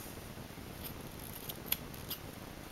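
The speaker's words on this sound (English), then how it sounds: "Grab your scissors, go right in the middle," Scissors snipping through fabric of a homemade seatbelt pillow, a few quiet crisp cuts with one sharper snip in the middle, close and alone.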